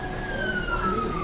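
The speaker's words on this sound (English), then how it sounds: "Boy, something's happening. Ambulances and fire." An emergency vehicle siren wails at mid-distance, its tone sliding downward as it passes, over steady traffic rumble.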